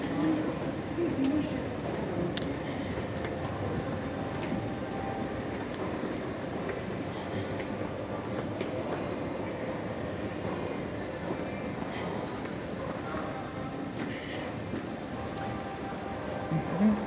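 Inside an underground metro station in Rome, a steady low rumble of trains and station noise holds for the whole stretch, fairly faint and even, with a crowd murmuring throughout.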